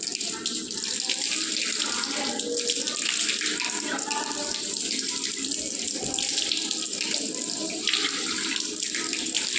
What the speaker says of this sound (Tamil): முகத்தை நன்கு கழுவுவது